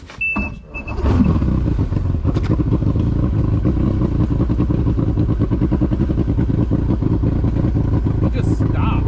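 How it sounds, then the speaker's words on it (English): An electric trolling motor on a bass fishing boat on a river runs with a loud, steady whirring drone and a rapid pulsing rattle, close by after a brief bump at the start. "I don't know what's going on with the trolling motor."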